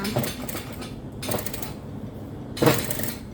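A sewing machine stitches lining and outer fabric together along a fold in three short, close mechanical bursts separated by brief pauses.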